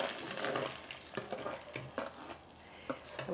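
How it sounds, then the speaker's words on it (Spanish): Chili frying in lard inside a hot clay pot, with a steady sizzling hiss and a few sharper crackles and scraping stirs, close and alone with no talking. "Ya lo voy a poner a freír."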